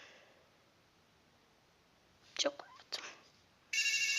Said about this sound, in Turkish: Aa telefon çalıyor.